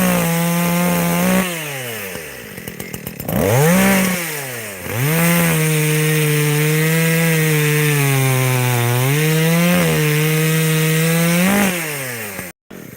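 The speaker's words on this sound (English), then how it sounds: "God, I love this chainsaw so much." A chainsaw runs loud and close while cutting wood outdoors, its engine note dipping and rising as the chain bogs into the cut and revs back up, sustained for most of the stretch before cutting off abruptly.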